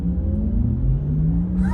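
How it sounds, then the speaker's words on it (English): A 2022 Porsche Taycan accelerating with its artificial electric sports sound gives off a smooth, steadily rising synthetic hum that climbs in pitch, heard close and continuous with no talk. "I have the electric sports sound still turned on, and it sounds really, really cool."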